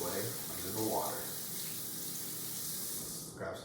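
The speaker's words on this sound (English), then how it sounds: "Start by starting the water, rinse the hands off a little" Steady water running from a sink tap during handwashing, a continuous splashing hiss that holds for several seconds at close range, with faint handling sounds and no talking.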